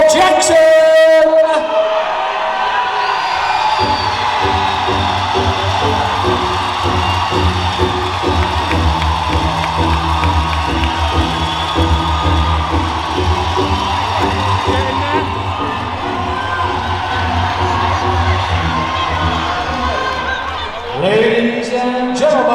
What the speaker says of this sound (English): Let's have a big round of applause for Jackson!